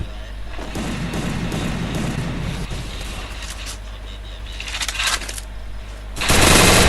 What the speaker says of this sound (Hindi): अरे MP40 से मार रहा है